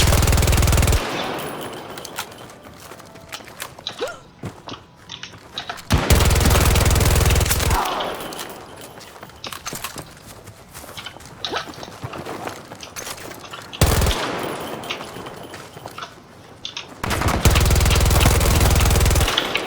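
Rapid automatic gunfire bursts in Battlefield 2042, loud sustained volleys broken by quieter stretches with footsteps and scattered shots between them.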